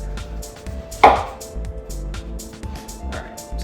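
One sharp knife chop through a cored pear on a cutting board, a single close, crisp impact followed by quieter handling, with faint background hum.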